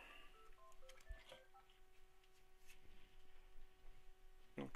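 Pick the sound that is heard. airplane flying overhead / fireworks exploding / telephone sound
telephone sound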